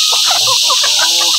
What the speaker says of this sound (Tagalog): Habol sa akin mga manok ko.